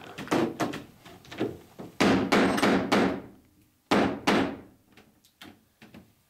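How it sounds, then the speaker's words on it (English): A boat rib tapped down with a hammer and a clamp tightened onto the batten while riveting frames in a small boat. Sharp, resonant wooden knocks and thumps come close, some in quick groups, with no talk. "give it a tap down, tighten up the clamp onto the batten"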